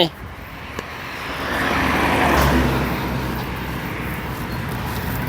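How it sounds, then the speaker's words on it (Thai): A car on a road approaches and passes close by, its engine and tyre noise swelling to a peak midway and then fading into steady traffic hum, with people talking over it. "รถมาแล้วนะครับรถมาแล้วพี่น้อง"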